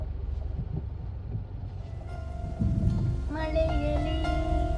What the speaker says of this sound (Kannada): ಮಳೆ ನೋಡಿ ಗೈಸ್, ಮಳೆ ಬರ್ತಾ ಇದೆ ನಮ್ಮ ಮೈಸೂರಲ್ಲಿ.